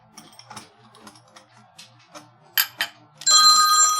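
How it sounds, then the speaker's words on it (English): A mobile phone ringtone starts up loudly and keeps ringing steadily at the end, after scattered taps and clicks from leather tooling work at a craft table. "I don't think I muted my phone."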